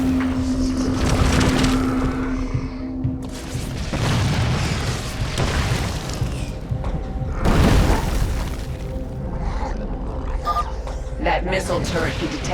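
Explosions and crashing debris from a Dominion barricade being destroyed in StarCraft 2, with heavy booming bursts near 7–8 seconds over continuous game noise and ambient rumble, and voices talking throughout.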